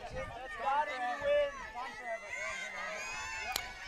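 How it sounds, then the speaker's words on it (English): Mille Lacs Raiders fans in the bleachers at a 5A elimination bracket softball game against the Jaguars, a distant crowd murmur and scattered cheering heard under a nearby announcer talking. "You hear the Mille Lacs Raiders fan base at the bleachers just to the left of me."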